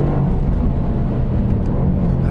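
A 2019 Mercedes-AMG GT R Pro engine drones loudly and steadily on a racetrack as the driver gets back on the throttle after a corner, a constant close mechanical roar with no talk in the clip.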